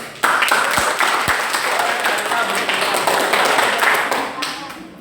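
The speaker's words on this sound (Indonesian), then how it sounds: "Tepuk tangan buat mereka." A classroom of sociology students in a peer-teaching session breaks into applause, a dense, steady patter of many hands clapping that starts abruptly and holds at an even, fairly loud level for several seconds.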